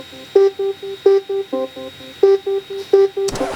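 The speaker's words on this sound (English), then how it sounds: "Right now, the breakdown lead that we have would sound like this." A synth breakdown lead programmed in FL Studio Mobile plays short repeated staccato notes in a steady rhythmic pattern, loud and upfront, with a brief burst of noise at the very end.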